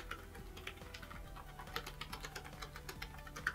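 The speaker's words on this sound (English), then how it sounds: "Now, it does have a mechanical keyboard, like I said. Listen to that." Rapid clicky keystrokes on a Lenovo Ideapad Y900 gaming laptop's mechanical keyboard patter in an uneven rhythm, close and fairly quiet, with no talking.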